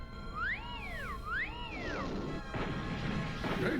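A cartoon crash landing: two swooping whistle-like falling tones lead into a noisy smashing crash and clatter, fairly loud and alone, with no talking.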